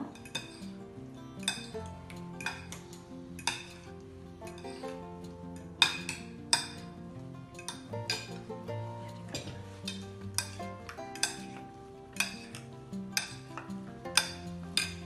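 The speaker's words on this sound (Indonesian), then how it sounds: "Ini kita akan aduk" Egg whites being stirred in a bowl for fried tofu make repeated close clinks and scrapes of a utensil against the dish in an uneven rhythm, with a steady musical tone running underneath.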